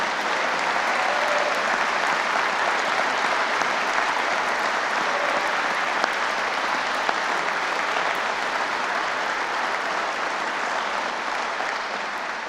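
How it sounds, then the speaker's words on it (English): Audience applause for Feeding Kentucky during Governor Andy Beshear's 2026 State of the Commonwealth and budget address: a steady, full roar of clapping that holds evenly throughout and tapers only slightly at the end. "Let's give a big round of applause for Feeding Kentucky"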